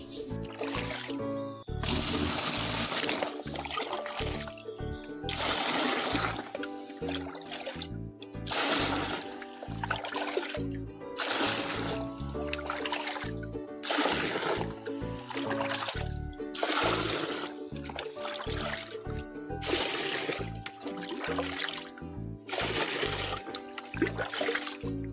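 Water is hauled and poured by hand in a village with no water connection, coming as repeated splashing pours and gushes in uneven bursts with short pauses between, close and fairly loud, with no talking.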